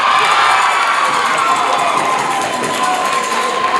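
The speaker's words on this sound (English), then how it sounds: "The Weyburn crowd really likes it when we get points." Basketball crowd at a girls' game cheering loudly after a made free throw, a dense, sustained roar of voices and shouts filling the gym throughout.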